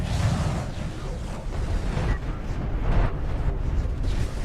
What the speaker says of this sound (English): His artillery, of course, targeting it.